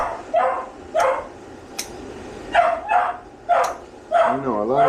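A wiener dog (dachshund) barks during a grooming session, with a series of close, sharp yaps spaced about a second apart, then a drawn-out whining whimper at the end.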